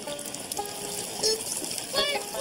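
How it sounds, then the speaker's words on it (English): Rain falling outside a shelter in a cartoon scene, a steady watery patter and splash with brief trickling and dripping accents throughout, fairly soft and continuous. "Rain! I hate rain!"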